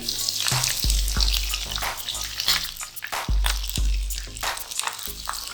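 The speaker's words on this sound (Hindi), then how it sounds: "बघाड़ तैयार करने के लिए मैंने एक पैन में ऑयल डाला है, ये गर्म हो चुका है। अब ये तमाम चीज़ें इसके अंदर डाल देंगे" Green chilies and spices sizzle steadily in hot oil in a pan as a tadka for shahi chana daal, a close, hissing fry with a few low clunks from the pan.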